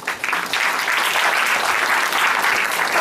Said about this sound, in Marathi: त्यामुळे टाळ्या थांबून देऊ नका.